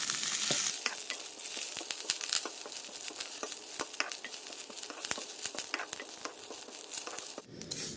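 Curry leaves frying in hot oil until crispy, a close crackling sizzle with sharp pops and crunchy stirring, fading out near the end, with no talk.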